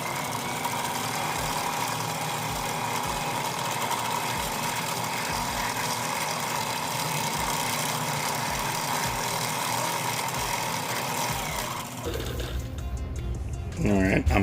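65 lb 12-strand hollow-core braid spooled onto a Penn Spinfisher 7500 Long Cast reel, heard as a steady whirring hum with a rhythmic low ticking under it, running continuously before stopping near the end.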